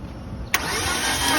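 A Proton Campro engine with its spark plugs removed is cranked by the starter during a compression test, a brief faint lead-in giving way to a loud, steady whirring crank up close.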